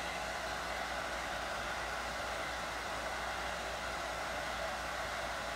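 A hairdryer blows continuously, a steady broadband whoosh with no breaks, moderately loud and close, with no voices.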